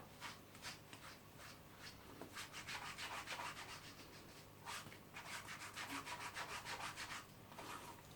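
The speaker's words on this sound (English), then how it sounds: "I'll use the other side of the suede brush to finish them off" A suede brush scrubs cleaner into suede shoes in quick, repeated back-and-forth strokes, making a dry, gritty rasping that comes in rhythmic bursts. The brushing is close but quiet, with no talking.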